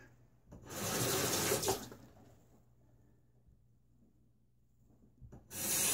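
A razor rinsed under a running tap while shaving, with two close bursts of water splashing, the first lasting about a second and the second starting at the end, separated by quiet handling.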